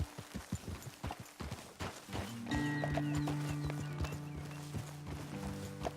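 Horse hooves clip-clopping in Red Dead Redemption 2: a run of distinct hoofbeats for the first couple of seconds, then steady sustained tones and ambient layers swell in under fainter steps, with no speech.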